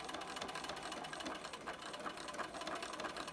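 A sewing machine stitches down a fabric mask, giving a steady, close, continuous whirring rattle that runs unbroken through the whole stretch.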